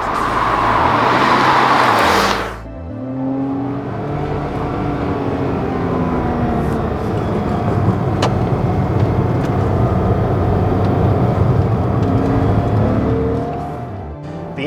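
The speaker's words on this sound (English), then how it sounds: "It revs, I wouldn't say as effortlessly as newer Porsche motors, but it loves to rev all the way to redline." A 1997 Porsche Boxster 2.5-liter engine roars loudly up close, then settles into a sustained revving drone with rising pitch toward redline, heard from inside the moving car.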